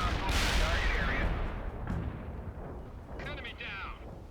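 Naval destroyer cannons and missiles fire in the real-time strategy game World in Conflict: loud booming blasts and rushing launches roll through a dense battle din, with fainter bursts near the end.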